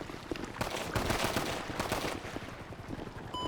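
Gunfire in Grand Theft Auto V played on a FiveM server comes as a dense burst of rapid shots, crackling over a steady rushing background at moderate loudness, without speech.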